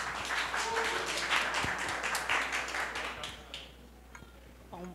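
An audience at a panel event on master's scholarship programmes applauds warmly for a few seconds, the clapping thinning out and fading before a voice begins.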